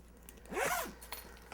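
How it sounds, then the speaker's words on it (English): A single quick zipper pull opens a Think Tank Airport Security camera bag, close and clear, rising and falling in about half a second with faint rustles after. "So let's open the airport security bag."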